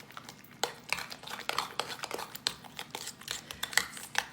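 A spoon stirring a mixture into cooked squash for squash casserole, giving quick irregular scraping clinks and soft wet strokes against the dish, close and steady.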